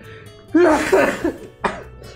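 A person coughs in two or three harsh, close bursts with a brief throat-clearing quality, loud and alone over faint game sound.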